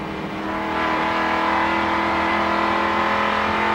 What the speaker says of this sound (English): Dick Johnson has some problems here with the number 17 car blowing smoke.